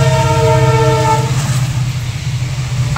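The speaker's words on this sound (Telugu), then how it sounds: "ట్రైన్ పోతుంది" A train passing on a railway track beside farmland in the rainy season sounds a loud, close horn blast, then runs on in a steady low rumble with faint wheel clatter.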